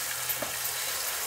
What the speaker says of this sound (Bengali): একটু ভেজে নেড়ে নিলাম।